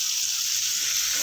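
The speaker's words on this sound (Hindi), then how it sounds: "अब हम लोग इसमें प्याज ऐड कर रहे हैं और इसको अच्छी तरह से भूनेंगे।" Onions sizzle steadily in a pan with spices for a masala okra dish, a dense, continuous hiss of frying fat close by, with no voices.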